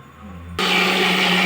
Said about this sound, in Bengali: এবার এটা মিক্সার করা হবে।